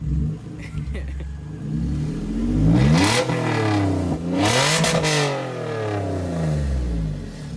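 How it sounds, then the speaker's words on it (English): A loud, raspy straight-piped car engine revs up and down in surges at a fast-food drive-thru, the rough exhaust note rising and falling over a steady idle, with faint speech mixed in. "I drove a straight piped beater through the drive-thru."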